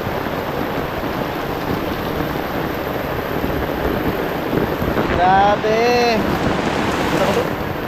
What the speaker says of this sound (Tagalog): Ulan pa more. Lakas ng ulan.